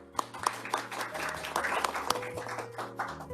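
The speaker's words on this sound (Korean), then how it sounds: "큰 박수 부탁합니다." Audience at a Korean academic seminar on national statistics governance applauds a presenter, scattered claps with a few distinct sharp hits rising into a fuller round, heard indoors in a hall.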